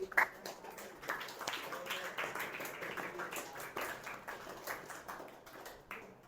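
A class audience claps in scattered, uneven bursts, the separate hand claps clearly audible, while some talking continues underneath.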